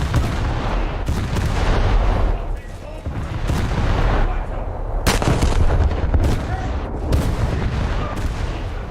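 A warship's naval guns fire salvos in a naval combat game, heavy booming blasts landing in a sharp burst near the middle over a constant rumble of battle noise, with a voice talking throughout.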